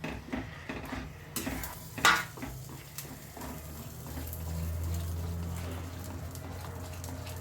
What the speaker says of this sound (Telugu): ఇదిగో ఇలా ఉండకట్టకుండా నెమ్మదిగా కలుపుకుంటూ ఉండాలి.